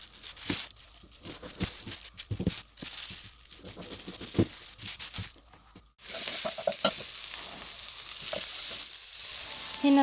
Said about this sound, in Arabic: هنا بنحط اللحمه بتاعتنا مع البصل ونقلبها ونسيبها تستوي شويه